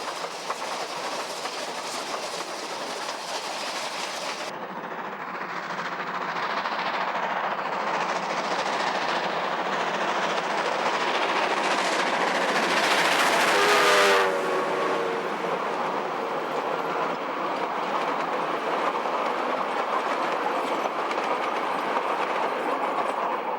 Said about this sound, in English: the first steam train on the Otago Central for over 30 years